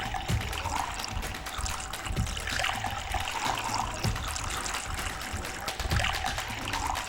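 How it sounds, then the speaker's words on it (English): Liquid trickles and splashes steadily into a glass, a continuous watery pour with faint clinks, close by and without speech. "Just pour it in the glass."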